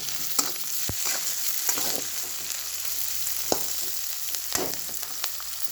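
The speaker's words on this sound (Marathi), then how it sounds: "कढीपत्ता असा चढ आवाज येतो बघ" Mustard seeds, chilli and curry leaves spitting in hot oil in a pan, a steady close sizzle broken by a few sharp pops and crackles.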